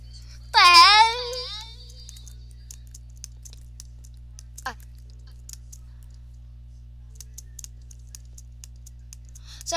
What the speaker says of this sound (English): sorry for the loud clicking.